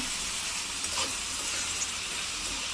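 Onions and curry leaves frying in a pan: a continuous, even sizzling hiss at moderate level, steady throughout with no voices.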